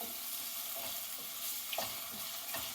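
Onions frying in butter in a pan, a steady soft sizzle with occasional scraping stirs, close and alone with no talk.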